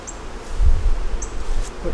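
Honeybees swarm around an open hive during a queen inspection, producing a close, continuous buzzing with a low rumble of handling noise underneath.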